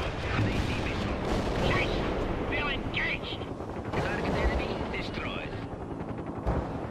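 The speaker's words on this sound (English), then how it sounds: "I'm giving you access to some of our artillery." Artillery fire in the World in Conflict strategy game rumbles and thuds steadily beneath someone talking through most of the stretch.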